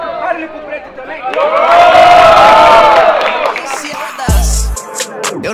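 A loud crowd roars, cheers and shouts at a street rap battle in Itaquera, the noise swelling over several seconds and then breaking into scattered whoops.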